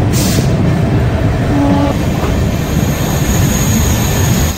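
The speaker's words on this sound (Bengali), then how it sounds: "আর এখন আমরা পার করছি বেশ আস্তে আস্তে ব্যারাকপুর রেল স্টেশন।" Sairang Express passenger train rolling slowly through Barrackpore railway station, a loud continuous rumble of wheels and carriage noise heard close from on board, with faint rail clatter and no voices.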